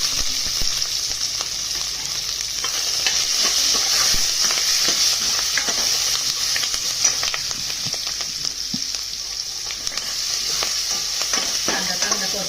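Curry leaves and chopped onion frying in hot oil with a pinch of asafoetida for masoor lentil curry: a steady, close sizzle with bright crackling hiss and occasional stirring scrapes throughout.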